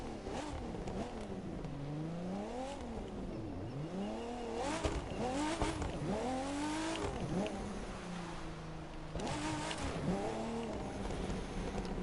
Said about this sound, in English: We have some nice turbo sounds.